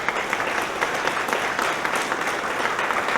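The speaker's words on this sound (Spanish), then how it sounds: "¿Cuánto le damos fuerte aplauso al Señor?" A church congregation claps loudly during a Spanish-language Sunday service, a steady, dense burst of applause sustained evenly throughout without voices over it.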